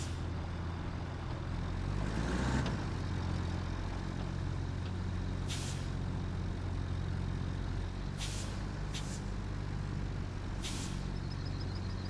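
A truck in the Roadcraft video game idles at a low rumble while several short, sharp air brake hisses burst out at intervals, one larger release early on and others later. No voices are heard.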